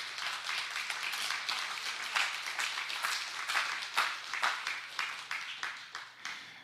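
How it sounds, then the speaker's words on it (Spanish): Church congregation clapping for the Lord at a Spanish-language sermon, a dense patter of many hands that settles into a looser rhythm, moderately loud and continuous with no talking. "Dele palmas al Señor, hermano"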